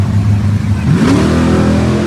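A race car engine revs loudly on a track, the pitch sweeping upward in one quick, close rev over a constant engine roar.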